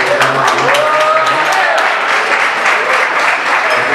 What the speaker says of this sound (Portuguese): Uma salva de palmas para esses dois atletas aí.